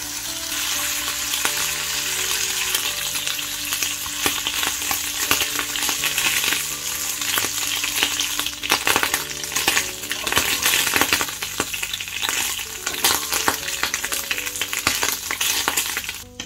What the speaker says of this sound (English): in the same fat from the bacon, we're going to add the turkey rashers. And we're going to fry them for a few seconds on each side.